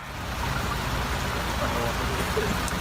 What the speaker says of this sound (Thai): ฝนตกเนี่ยค่ะ